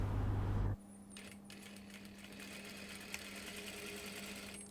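A sewing machine stitches a narrow seam along the facing of a cashmere jacket, a steady close mechanical whirr with a fine rapid needle rhythm running continuously after a brief louder noise at the start.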